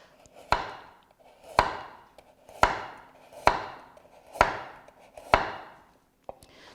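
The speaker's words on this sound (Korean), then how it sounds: "자, 당근도 채 썰어 주세요" A kitchen knife julienning carrots on a cutting board in a Korean temple food cooking class: six crisp, evenly spaced chopping strikes about a second apart, each with a short, bright board impact. No talking.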